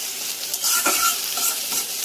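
Dried fish (shutki) and chopped coriander leaves fry in oil with a close, steady sizzle, and the stirring swells briefly in the middle of the short stretch. No voices.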